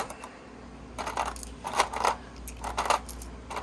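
A metal triple clamp pinch bolt from a 2021 Honda CRF450R three-wheeler build drops onto a hard workshop floor, giving a series of bright, close metallic clinks and bounces with no talking.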